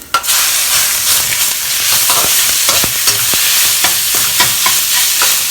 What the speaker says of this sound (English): Spread them out and fry them until dry.